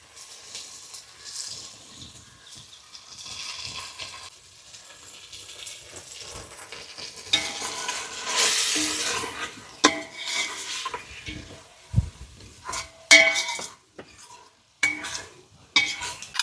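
Masala spice powders frying and being stirred in a pan, soft sizzling with scraping spoon strokes and occasional metallic clanks against the pan, close and alone.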